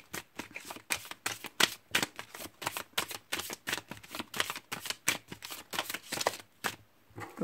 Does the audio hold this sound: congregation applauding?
no